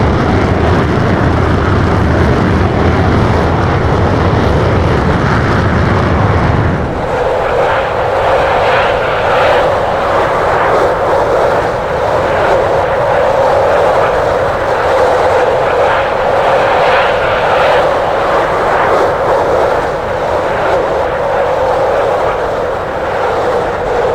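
A B-1B bomber flying low with its wings swept over desert, its engines a loud, continuous broadband roar that drops and shifts in tone about seven seconds in, then holds as a steady rushing drone to the end.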